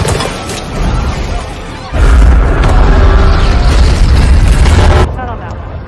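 An airplane explodes in a scene from the film Greenland, a heavy low boom swelling into a sustained roaring rumble of fire and debris that cuts off abruptly, loud and close.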